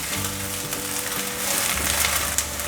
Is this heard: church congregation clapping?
no